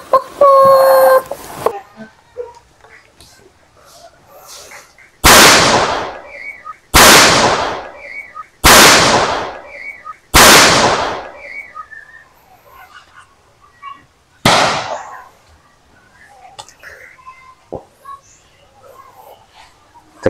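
A homemade bamboo cannon (boga) fires five loud, sharp booms, each with a ringing decay, spaced a few seconds apart, after a brief burst of sound at the start.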